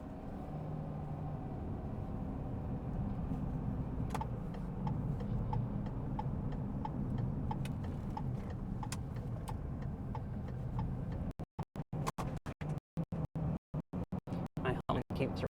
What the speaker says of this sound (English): My helmet keeps rolling around in the back of the car. If you hear the noise.